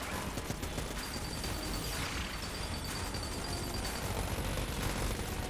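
Gunfire in the bullet-hell video game Enter the Gungeon sounds as a dense, constant wash of small shots and impacts, with faint electronic tones above. It stays steady and moderately loud throughout, with no talk.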